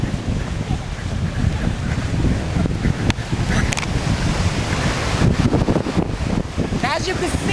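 Steady wind buffets the microphone on an island shore while ocean waves wash and roll in the background, loud and continuous throughout.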